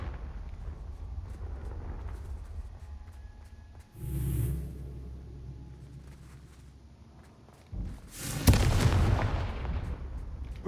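Confringo blasting spells going off in the Hogwarts Legacy video game: two heavy booming explosions several seconds apart, the second louder and crackling with debris, over a low rumbling game ambience.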